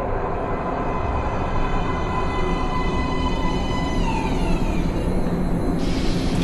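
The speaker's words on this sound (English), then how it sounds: "Please step away from the edge of the platform. Train coming in." A subway train pulls into a metro platform in the Metro Last Light video game, a continuous loud rumbling roar with shrill screeching tones rising and gliding down as it brakes, with no talk over it.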